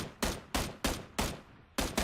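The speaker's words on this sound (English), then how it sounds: "who the fuck is shooting?" Bursts of video game gunfire in a multiplayer battle, five or six sharp reports spaced about a third of a second apart, each loud and close, with brief decaying tails between them.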